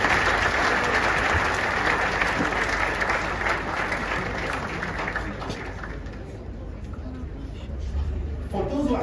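An audience at a private polo cup event at Guards, Windsor, gives a round of applause; steady, moderately loud clapping and crowd noise fill the stretch, gradually thinning toward the end.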